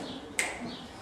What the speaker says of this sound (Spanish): Hay un chasquido de dedos.